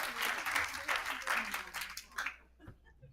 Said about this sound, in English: Round of applause for Jack Sullivan.